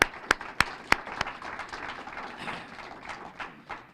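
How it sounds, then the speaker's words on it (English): A few sharp, close handclaps ring out first, then scattered applause from a small audience at a book signing continues and slowly fades. "So round of applause"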